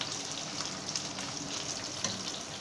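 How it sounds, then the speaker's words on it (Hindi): Green chillies lightly frying in a pan, a steady, fairly soft hiss of hot oil with no voices over it. "सारी मिर्चें डालेंगे और मिर्चों को फ्राई करेंगे"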